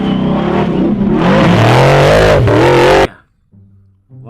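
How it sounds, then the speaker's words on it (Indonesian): Small motor of a toy off-road car revving loudly for about three seconds with rising and falling whine, then cutting off abruptly into near silence before a faint restart. "Di sini ada mobil off-road"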